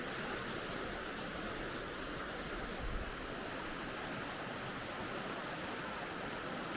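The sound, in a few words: stream water flowing near a little bridge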